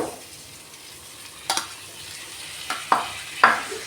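Tomatoes and green chillies being stirred and sautéed in a pan after onions and garlic, with a soft steady sizzle and a few sharp scraping strokes of the spoon near the end.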